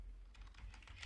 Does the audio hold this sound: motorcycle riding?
no